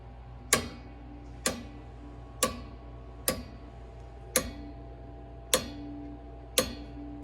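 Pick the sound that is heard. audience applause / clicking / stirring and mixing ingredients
clicking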